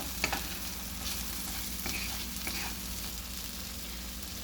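Mutter paneer with a spoon of tomato ketchup is stirred in a hot pan, a steady close sizzle with soft scraping strokes of the spoon, alone without talk.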